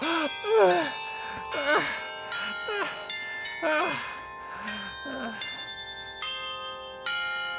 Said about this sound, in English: The famous chimes here in the Perlach Tower, beside the town hall